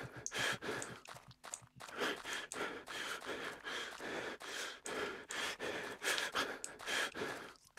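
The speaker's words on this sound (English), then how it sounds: "There's no music. It's just awkward. The only thing I can hear is breathing." Heavy, repeated breaths and sighs in a horror video game chase scene, close and steady with no music, rising and falling in an uneven rhythm for several seconds.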